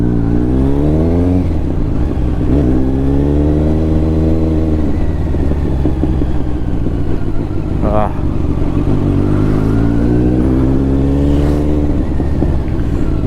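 A Kawasaki Ninja 1000SX 1000cc superbike engine idles and revs steadily, its pitch rising and falling in waves, loud and close throughout.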